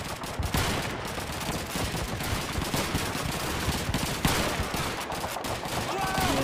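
Rapid gunfire crackles in the Call of Duty 2 video game, bursts of shots rattling densely and loudly over a busy battlefield din for the whole stretch.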